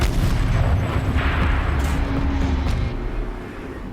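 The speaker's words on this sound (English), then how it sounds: "Rotate turret! And fire!" Turret cannon fire in the video game Horizon Zero Dawn, a dense, loud rumbling barrage of heavy booms that fills the whole stretch and eases slightly toward the end, with no talking.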